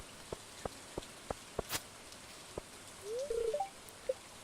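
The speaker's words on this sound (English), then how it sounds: "it's raining, so I don't unlock the community center" Steady soft rainfall in the Stardew Valley video game, a faint even hiss with sparse clicky taps and a couple of brief electronic chirps near the end.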